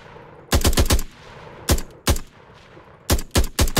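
Gunfire from a third-person shooter game under development, heard as loud close bursts: a rapid run of four shots, then single shots, and a final cluster of three sharp reports.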